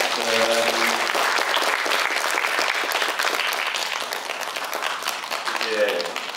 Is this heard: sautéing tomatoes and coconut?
no